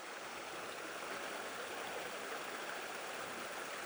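A small waterfall at Bear Creek Preserve, with only a little water spilling over huge stones, gives a steady, even rushing hiss that runs unbroken throughout with no voices.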